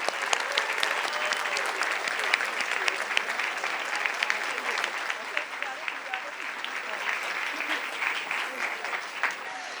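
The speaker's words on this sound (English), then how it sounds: "Let's give her another round of applause." Audience applause at a hospital heroes awards gala in Los Angeles, dense continuous clapping from a large crowd holding steady for several seconds.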